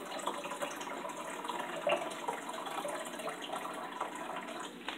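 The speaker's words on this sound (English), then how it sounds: "So now what I'm gonna do is just add some water until I reach the" Tap water runs steadily into a container being filled to the 1 liter line, preparing descaling solution for a Breville Barista espresso machine; a constant close splashing hiss with no talk.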